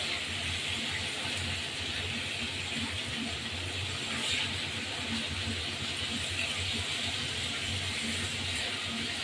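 Steady loud sizzling and hissing of chicken frying in hot oil, continuous throughout with no speech.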